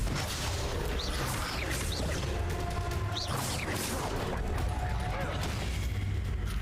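A Confringo blasting spell is cast in the Hogwarts Legacy video game, giving several sharp crashing bursts and whooshes over a dense, continuous game battle soundscape, with voices talking throughout.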